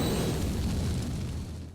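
A delayed spell-bullet explosion in Elden Ring, a dense, loud broadband boom with heavy low rumble that holds steady for nearly two seconds before easing slightly, with no voices.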